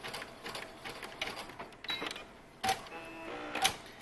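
A sewing machine runs a wide zigzag stitch to tack elastic onto a swimsuit edge, heard as short stop-start bursts of whirring and clicking with pauses between runs.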